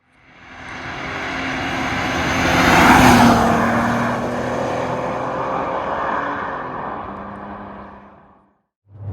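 An MK4 VW Golf R32 passes by, a loud engine roar swelling as it nears, peaking and then fading steadily as it drives away, leaving brief quiet at the end.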